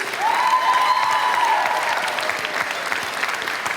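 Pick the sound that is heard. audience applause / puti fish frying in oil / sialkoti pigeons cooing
audience applause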